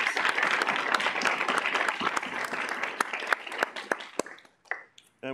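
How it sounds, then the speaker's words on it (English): Round of applause for student government members at a university student involvement meeting, steady clapping from a modest crowd that fades out into a few scattered final claps. "Let's give them a round of applause."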